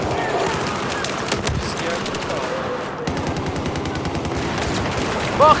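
Battlefield 4 gunfire, rapid automatic bursts and repeated shots cracking close and loud across the whole stretch, with a brief pause near the middle.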